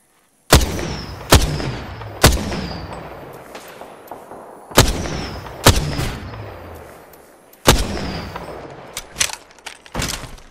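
Heavy gunfire in Apex Legends: sharp, loud single shots at irregular intervals, each trailing off in a long reverberant decay, with faint metallic clinks between.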